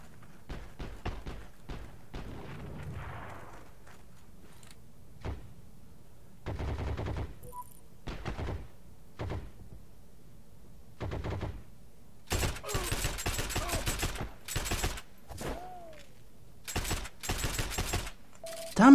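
Short bursts of automatic gunfire from the Heroes and Generals video game crack out at irregular intervals, each volley sharp and close, with quiet gaps between and a denser cluster of rapid shots toward the end.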